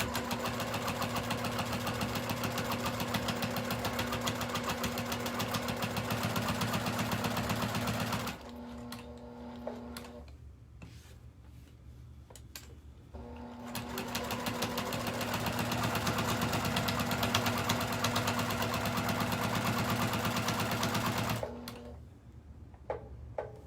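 A sewing machine runs steadily and close while stitching a Square in a Square quilt block, humming in two long bursts with a short quieter pause of scattered clicks between them.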